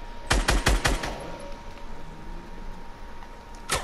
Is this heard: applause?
no